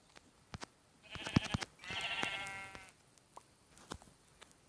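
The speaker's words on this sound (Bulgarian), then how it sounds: "Овца!" Sheep in the Minecraft video game, two bleats, one short and wavering and then a longer one, clear and moderately near, amid scattered clicks and taps from gameplay.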